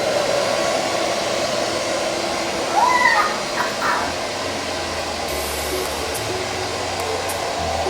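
An ILIFE V58 robot vacuum cleans a home floor with a steady, close whirring hum that runs the whole time. A few short higher chirps and faint clicks come through over it.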